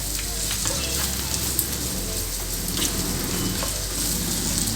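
Chopped onions and a few cashews sizzle steadily in a hot pan after a pinch of salt goes in, a continuous close frying hiss with occasional soft crackles and no talking.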